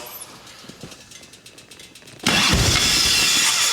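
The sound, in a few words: 1989 Harley Ultra Classic engine idling roughly with air leaks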